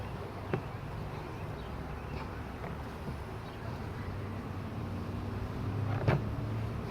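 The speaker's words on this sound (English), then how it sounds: "Now there's a big pile of bees in here." Bees in an open beehive give off a soft, continuous buzzing drone, quiet and close, with a few faint clicks and knocks over it.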